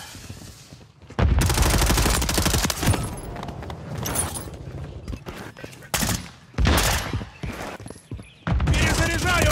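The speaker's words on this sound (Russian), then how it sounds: "Кидаю гранату!" A Call of Duty MW3 battle: loud bursts of gunfire and a heavy grenade blast come in dense, close waves with brief lulls, under shouted speech.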